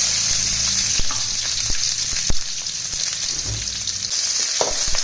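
Whole onion, fennel seeds and a piece of cinnamon bark frying in hot oil, giving a steady close sizzle with occasional sharp pops and stirring clatter, no voices.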